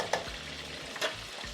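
A pot of queso made with Velveeta, pepper jack, Rotel chilies and whole milk heats over a burner, with a soft sizzle and a couple of brief scraping stirs, faint and close.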